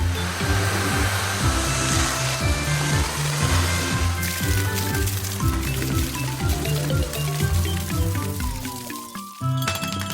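A water cannon on a fire truck sprays a strong, continuous rush of water that hisses loudly over a rhythmic mechanical churning, briefly cutting out near the end before resuming.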